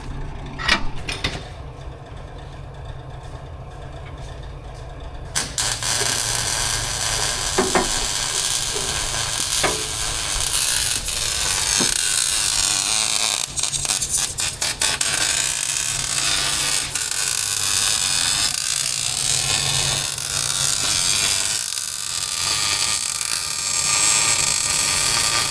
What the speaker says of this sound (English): we'll just go ahead and weld that all the way around the entire thing.